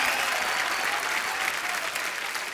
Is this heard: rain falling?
no